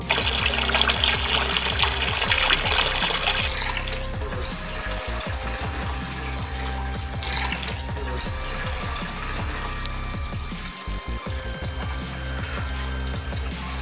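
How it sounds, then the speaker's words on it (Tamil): A steady high-pitched electronic alarm from a homemade water tank overflow alarm beeps continuously over running, trickling water as the tank fills, starting loud and settling into a quieter flow. "இப்போ அலாரம் சூப்பராக அடிக்குது"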